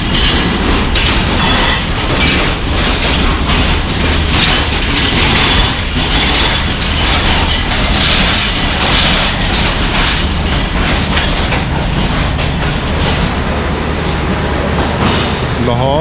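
The Mehr Express from Multan stands at the station in Rawalpindi with a loud, continuous rumble and clatter, close and unbroken throughout.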